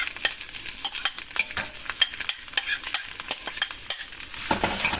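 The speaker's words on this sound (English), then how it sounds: "you may hear some noise, but this is cooking sound" Food frying in a pan while being stirred, a close, busy sizzle broken by quick rhythmic scrapes and rustles, steady throughout and heard alone.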